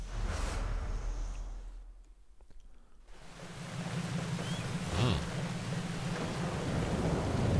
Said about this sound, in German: Ich glaube, wir haben das erste Mal Regen.